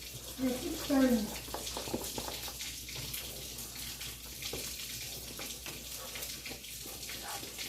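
Tap water runs steadily at low level as something is rinsed in a kitchen while ogbono soup is cooked, with brief voices near the start and a constant watery hiss throughout.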